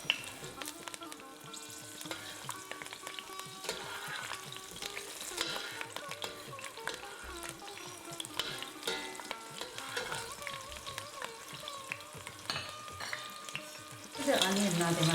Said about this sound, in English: The onion now they must fry.